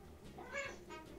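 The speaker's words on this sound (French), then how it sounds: "Alexa, fais le bruit du chat." A single short cat meow plays faintly, slightly tinny and reproduced, rising and falling over about a second.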